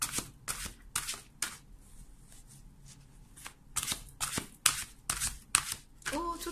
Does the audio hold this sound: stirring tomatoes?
no